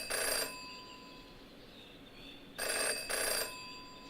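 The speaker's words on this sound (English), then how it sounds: "Jenny had learned never to ignore a ringing phone" A telephone rings in the Jenny LeClue Detectivu video game, with two bursts of bright electronic ringing, one at the start and a double ring near the end, separated by quiet ambience.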